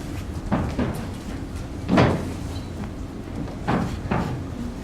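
A door handled on a theatre stage, several soft knocking and opening thumps spread across the clip, the loudest around the middle, set against quiet room ambience.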